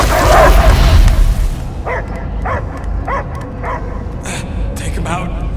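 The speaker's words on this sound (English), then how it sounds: "I hear only barking." A dog barks in the video game Guardians of the Galaxy, a loud burst and then a run of short, regularly spaced yelps against a low rumbling backdrop, with voices speaking.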